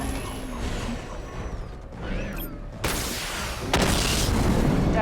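The missile barrage weapon firing in Batman: Arkham Knight: whirring, ratcheting mechanical noise gives way to two sudden, loud booming blasts near the end, with no voices.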